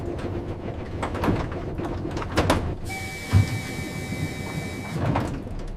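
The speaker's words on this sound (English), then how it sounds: "The doors opened." Train doors slide open with a steady mechanical hum and a faint whirring tone, capped by a soft thud, set against a low rumbling background at a station platform.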